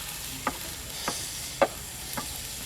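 Grated coconut, shallots, ginger and curry leaves fry in hot oil for a Kerala-style ellum kappayum masala, making a soft steady sizzle broken by four evenly spaced spatula stirs close to the pan.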